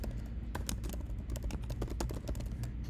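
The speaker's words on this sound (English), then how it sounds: "So I'm gonna type it." Rapid, uneven clatter of keys on a computer keyboard, close and fairly loud, typed in short bursts during a casual afternoon live-stream session, with no voices over it.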